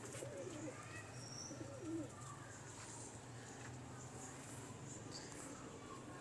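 Lakha pigeons cooing softly in a loft, low murmuring coos in the background under a steady hum, faint and somewhat distant.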